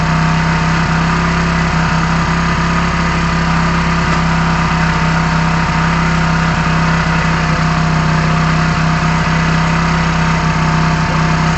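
An engine, checked against its tachometer while being revved toward 4000 rpm, runs with a loud, constant drone and a strong steady hum. Its pitch stays level throughout, and no voices are heard.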